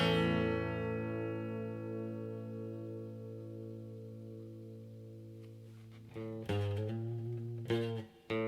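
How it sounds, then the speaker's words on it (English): Large reverb guitar pedal turned up past halfway on a sustained guitar chord, a long smooth wash of ringing tone fading slowly, then a few fresh strummed chords near the end bloom into dense reverberant tails. "I really hear the reverberation now."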